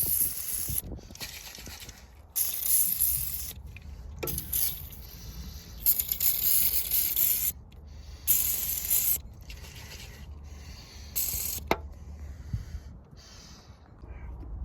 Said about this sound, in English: I like to spray them with blaster.